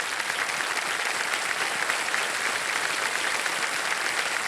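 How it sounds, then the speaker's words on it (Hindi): Steady, dense studio-audience applause on the KBC quiz show, loud and continuous with no break for the whole stretch. "तालियां बज जाए इनके लिए"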